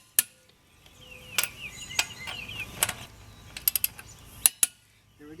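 Wheel lug nuts on a Chevrolet Trailblazer tightened in a crisscross pattern, with sharp metallic clicks and ratcheting bursts scattered over a quiet background, several quick clicks clustering near the end, no talking.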